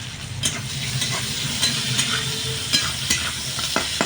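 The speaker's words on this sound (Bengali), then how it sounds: "পেঁয়াজটাকে একটু ভাজা ভাজা করে নেব।" Chopped onion, one large onion added to fried garlic, sizzles steadily in a pan, with the scrape and tap of stirring now and then and no talking.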